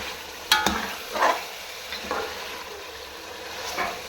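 Chicken frying in ghee in a karahi, dhaba style, a steady hiss with a few stirring scrapes and clinks up close, no talk.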